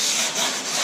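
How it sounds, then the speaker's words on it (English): Steady abrasive rasping of a wooden surfboard's top being sanded, close and loud, continuous for under a second with no voices. "And then we're just sanding off the top."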